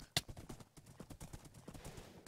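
Horse hooves in the Minecraft video game clop in quick, irregular steps, with a sharp knock near the start, moderately loud and fairly close.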